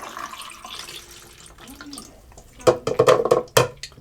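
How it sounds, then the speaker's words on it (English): Film developer poured into a developing tank, a liquid pour with splashing bursts growing louder in the second half after a quieter, faint start. "So, in goes the developer."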